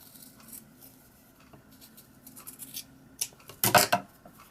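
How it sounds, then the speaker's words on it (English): Scissors snip at felt close by, a few soft crisp cuts followed by a louder, sharper snip near the end, with quiet between. "Take a pair of scissors and just trim right next to that heart."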